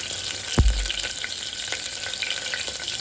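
Green chillies frying in hot oil with a cardamom pod for moong dal khichdi: a brief low thump as they drop in, then a steady close sizzle with light crackles and no voices.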